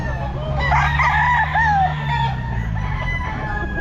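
A young stag rooster crows at a pet market, one drawn-out cock-a-doodle-doo rising and falling over about two seconds, loud and close, with faint market chatter and clucking in the background.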